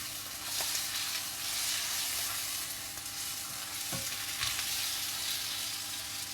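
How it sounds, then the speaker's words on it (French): Onions fry in a pan with a steady, soft sizzling hiss, close and fairly quiet, with a couple of brief clicks and scrapes from stirring partway through. "Je vais pas faire brûler les oignons."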